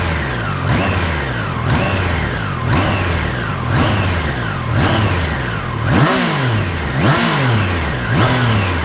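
A 2021 Triumph Trident 660 three-cylinder motorcycle engine is revved repeatedly, with about eight sharp blips that each climb quickly and then fall slowly back toward idle.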